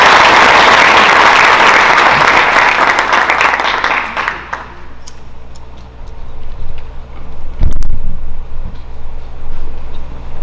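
An audience at UNC Asheville applauds as guest speakers are welcomed, a loud dense burst of clapping that fades away after about five seconds, followed by a quieter room with scattered sounds and a thump.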